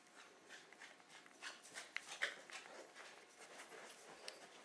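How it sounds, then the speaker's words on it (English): Dogs playing nearby give faint panting, soft whimpers and scuffling, with scattered light thumps and clicks of paws over a quiet indoor background, no voices. "Sorry, the dogs are playing."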